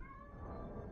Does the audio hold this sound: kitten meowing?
yes